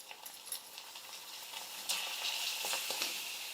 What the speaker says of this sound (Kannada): ಈಗ ಒಂದೊಂದೇ ಹಪ್ಪಳ ಹಾಕ್ಕೊಂಡು ಫ್ರೈ ಮಾಡ್ಕೊತೀನಿ ನೋಡ್ರಿ